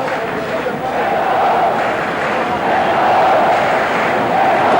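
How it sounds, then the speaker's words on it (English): Football stadium crowd in Guayaquil during a 1990 World Cup qualifier between Ecuador and Colombia, a steady loud roar of many voices swelling slightly mid-way, with no distinct talk. "The crowd once again finding voice here in Guayaquil"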